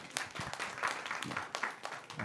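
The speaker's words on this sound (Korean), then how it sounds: "환영의 박수를" A small church youth group claps to welcome a newcomer at a service, faint, scattered hand claps with uneven rhythm in a quiet room.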